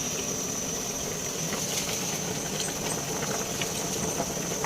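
Spinach tipped into a hot pan gives off a steady, loud steaming hiss with faint crackles, continuous and unbroken with no talking.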